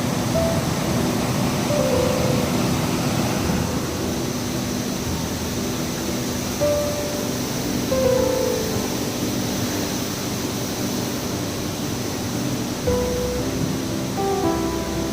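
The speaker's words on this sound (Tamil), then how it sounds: "அளவுக்கு மீறி தண்ணீர் ஆர்ப்பரித்து கொட்டும் அழகிய காட்சி" Floodwater pours over Thirparappu waterfall in a constant heavy roar, close and even in loudness from start to finish, with no talking.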